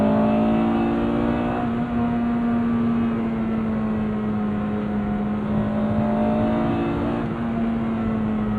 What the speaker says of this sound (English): I love these older Honda engines.